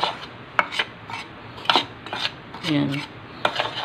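A utensil stirs pancake batter made with milk, melted margarine and vanilla in a bowl, giving repeated sharp clinks and scraping strokes at close range, with a brief voice in between.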